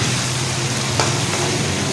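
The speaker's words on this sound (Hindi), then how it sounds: "अब इसे अच्छी तरह थोड़ा सा मिक्स करना है" Seekh kabab karahi is stirred in a pan, a close, continuous sizzle and frying crackle with soft scraping of the spoon throughout.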